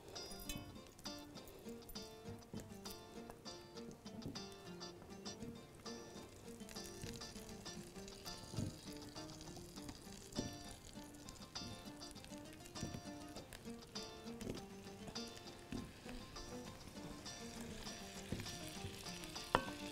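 Potato pieces sizzling steadily in a hot pan of oil, a continuous crackling fry with occasional stirring scrapes, close and fairly quiet throughout.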